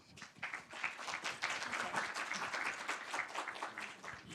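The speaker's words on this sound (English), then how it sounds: "On peut les applaudir." An audience at a Paris defence and security forum applauds round-table panelists, dense scattered clapping that swells quickly and holds steady for several seconds at moderate distance.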